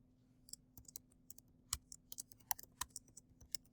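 Close, quiet typing on a computer keyboard as a name is entered, an uneven run of crisp key clicks with brief pauses between bursts and no voices.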